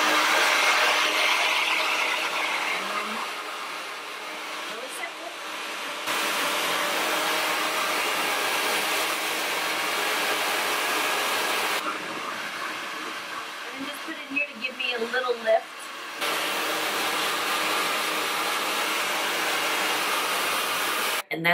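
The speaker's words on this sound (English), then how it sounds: "let me show you how I dry my hair" A hair dryer runs on high while drying hair, a loud, continuous rushing whoosh that shifts in tone and level as it moves around the head, with brief dips and rustling.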